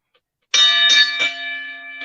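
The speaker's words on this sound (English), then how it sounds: "go ahead and ring that bell, sir" A bell struck three times in quick succession as a ceremonial closing bell at a wrestling podcast event, each bright metallic strike ringing out with a sustained, slowly fading tone, close and loud.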